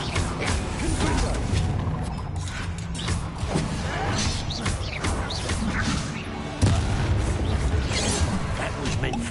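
Confringo blast spell explosions in Hogwarts Legacy, heavy rumbling booms and crashing impacts over dense battle noise, loud and close, with a sharper burst near the end and voices in the mix.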